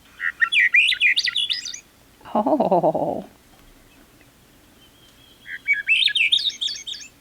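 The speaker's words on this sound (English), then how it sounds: "It is an olive-backed thrush." An olive-backed thrush sings two bright, fluting phrases separated by a pause, close and clear; a brief spoken exclamation sits between them.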